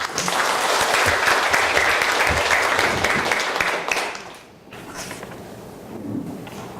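Loud audience applause at an international conference on Japanese forced labor, welcoming a lawyer to the podium, dense clapping for about four seconds before it fades to a quieter room.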